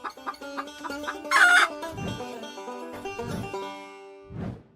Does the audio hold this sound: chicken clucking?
yes